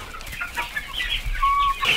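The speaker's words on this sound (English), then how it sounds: "It's bad enough that there's already over 100 chickens roaming around" Pastured chickens in a homestead poultry pen clucking, several birds producing short overlapping clucks and a sustained squawk nearby, with faint background flock noise.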